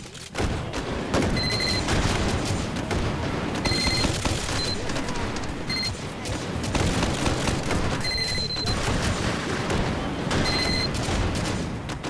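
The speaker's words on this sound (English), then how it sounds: "Too many explosions." Rapid gunfire and explosions from the VR shooter Hot Dogs, Horseshoes & Hand Grenades, a dense, continuous barrage of blasts and shots filling the whole stretch with sharp repeated electronic beeps on top.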